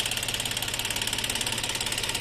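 A Japanese Shibaura SD1803 mini tractor's liquid-cooled diesel engine runs steadily, a fast even knocking chug repeating throughout, close and fairly loud with no talk.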